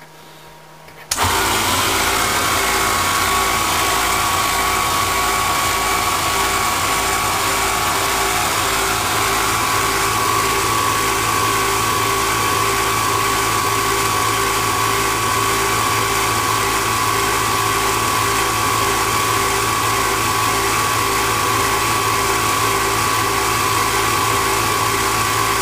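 A high-speed headstock motor on a Myford lathe runs at 24 volts near 2150 RPM, a steady, continuous whir with a constant pitch that starts abruptly in the first second and holds evenly at close range.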